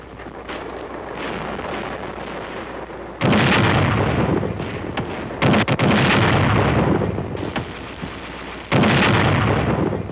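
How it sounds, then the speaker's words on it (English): Heavy bazooka and 81mm mortar fire in Korean War combat, with long rolling bursts of loud booming blasts and rumbling explosions in several waves, separated by quieter stretches of distant battle noise. "The bazooka. The 81mm mortar. Firepower and maneuver."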